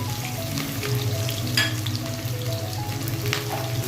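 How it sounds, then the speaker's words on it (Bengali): Onions frying in well-heated oil, a steady close crackling sizzle with occasional louder pops, continuous for about four seconds with no voices. "প্রথমে আমি পেঁয়াজ দিয়ে দিচ্ছি তেলটা ভালো করে গরম করে দিয়ে আমি পেঁয়াজ দিয়ে দিচ্ছি"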